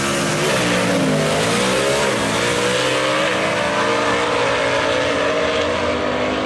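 Gasser drag race cars launch side by side at Union Dragway, their engines roaring loudly and climbing in pitch through the gears as they accelerate down the strip, with no voices over the noise.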